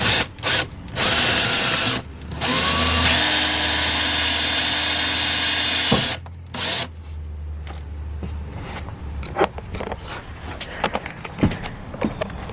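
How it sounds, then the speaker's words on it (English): A power drill whines steadily for several seconds drilling a pilot hole during a van diesel heater install, pauses, then runs again briefly, followed by scattered clicks and handling noises nearby. "So I'm gonna grab my drill and do that."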